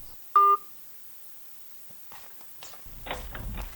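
A phone's keypad gives one short, clear dialing tone near the start, followed by quiet room sounds and soft rustling and handling noises.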